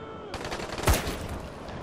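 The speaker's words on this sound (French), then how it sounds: "On prend notre fusil d'assaut." Assault rifle fire in the zombie game Dying Light: The Following, a burst of loud close shots with one sharp heavy crack near the middle, over continuous noisy game action.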